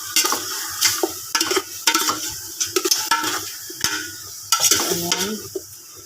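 Native chicken tinola ingredients are stirred in a cooking pot. Close, sizzling frying sounds come with repeated scraping and clinking strokes of a utensil against the pot in an uneven rhythm.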